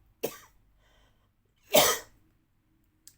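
A woman coughs twice, two short harsh bursts about a second and a half apart, with a faint third catch at the very end; otherwise quiet, no talking.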